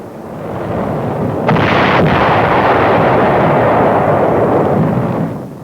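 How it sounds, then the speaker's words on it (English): Wartime artillery shelling of an enemy-held beach, a dense continuous roar of heavy gunfire and explosions blending into a loud rumbling barrage with a few sharper cracks, sustained for several seconds. "Preliminary shelling clears the beach of enemy opposition"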